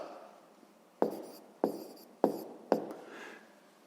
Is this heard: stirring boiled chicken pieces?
no